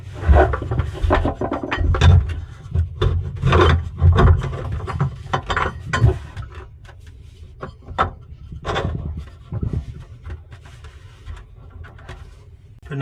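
A garbage disposal mounting ring is turned and tightened under a kitchen sink, producing close, loud scraping, grinding and clunking metal sounds in uneven bursts, with no talking.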